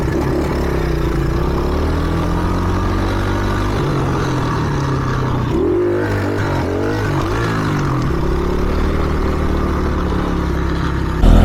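A cheap secondhand pit bike's small engine runs steadily while being ridden, a loud continuous drone that bogs and recovers midway with a rough patch, no talk over it.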